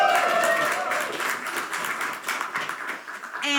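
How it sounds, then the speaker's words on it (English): Audience clapping at a musicians' monthly meetup, a dense burst of applause that thins and softens over a few seconds, with some voices mixed in. "come on, clap for that"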